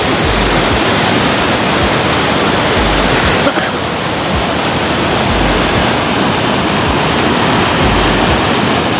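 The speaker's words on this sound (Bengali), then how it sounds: "ওইখান দিয়ে একটা ঝর্ণার মতো নাম চলছে" Rainwater rushing down a stream like a small waterfall during heavy rain, a loud, steady, close roar of falling and flowing water that never lets up.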